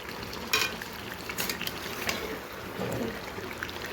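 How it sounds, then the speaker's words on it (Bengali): Meat being sautéed (kosha) in a pan, with a steady low sizzle and occasional scraping stir strokes, close by and moderately loud, with no talking. "এই দেখো মাংস কষানো চলছে।"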